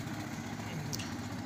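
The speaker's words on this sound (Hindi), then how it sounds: "ट्रैक्टर वाले भाई साहब इतनी स्पीड में क्या चला रहे हैं।" A tractor engine drones steadily as it runs along an empty road in Agra, a low continuous rumble heard at moderate distance for a brief moment.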